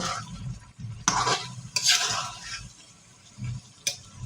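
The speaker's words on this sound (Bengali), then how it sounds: "ধীরে ধীরে সুন্দর করে কষিয়ে নিব" Pieces of sea fish are sautéed and stirred in a pan with spices: a soft sizzle broken by several brisk scraping bursts of a spatula against the pan, with no speech.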